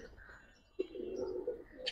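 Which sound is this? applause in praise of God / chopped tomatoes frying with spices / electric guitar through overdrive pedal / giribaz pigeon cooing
giribaz pigeon cooing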